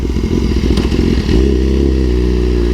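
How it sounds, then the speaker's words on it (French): A BMW S1000RR sport motorcycle engine runs loudly and steadily while riding, its tone shifting slightly as it settles into a continuous throaty rumble. "Ah c'est une moto qui marche vraiment super bien"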